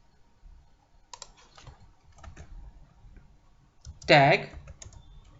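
Typing on a computer keyboard: scattered soft key taps, then a brief louder burst of rapid clicking, with quiet speech over parts of it.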